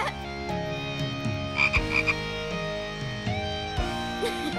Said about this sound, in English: Is the frog family saying thank you?